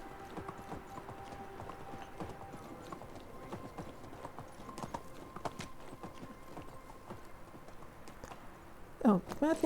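A horse's hooves clip-clop at a steady walking rhythm in the medieval village life game Medieval Dynasty, with someone talking in French over the hoofbeats and a brief louder rustle at the end.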